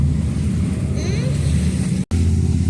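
A steady, loud roar of vehicle traffic and wind rushes past on a busy road in the UK. A brief higher whine passes through the middle, and a short dropout cuts in near the end.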